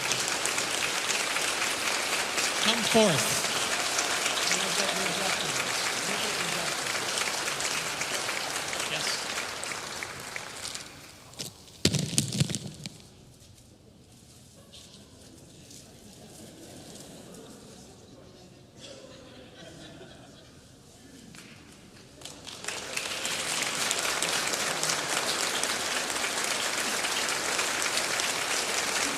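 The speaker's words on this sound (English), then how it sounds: "we can all clap for them again because they did a wonderful job" A concert audience at a People's Orchestra of Nashville Broadway and opera show claps loudly for the soloists, fading to a quieter stretch with a brief spoken call before the clapping swells again and continues.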